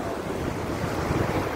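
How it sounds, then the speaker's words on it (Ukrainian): A small one-metre waterfall on the Opir river in Skole roars as a continuous broadband wash of falling water, close and loud, with some wind buffeting. "Красивий метровий водоспад."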